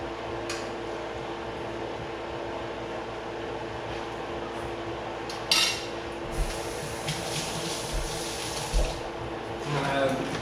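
Spoon stirring arroz con gandules in a rice cooker pot, giving soft scraping with scattered sharp clicks and taps against the pot over a faint background hum.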